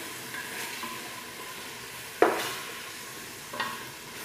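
Spoon stirring a vermicelli and chicken mixture with a spoonful of tomato paste in a pot, soft scraping with a few sharper clanks of utensil against the pan and a faint sizzle beneath, no talking.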